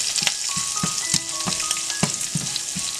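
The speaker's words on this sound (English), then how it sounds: "Roast everything for few seconds until urad dal becomes golden brown." Finely chopped ginger and urad dal roast in a hot pan, a close, lively sizzle with crackling pops and the clinks of stirring, steady throughout with no talking.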